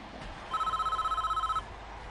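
A telephone rings in the RimWorld video game: a rapid electronic trill pulsing in a steady burst of about a second, clear and moderately loud over a faint background.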